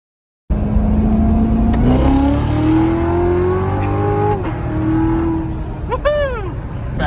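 Supercharged Ford Mustang 2V engine revving hard during a pull, a loud rising whine and roar that climbs steadily, eases off, then ends with a sharp blip; a voice is briefly heard near the end.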